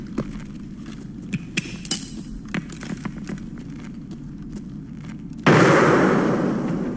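A grenade blasts in the video game Escape from Tarkov, one loud sudden burst that holds as a broad roar and slowly fades, following several seconds of quieter gunfire and clicks.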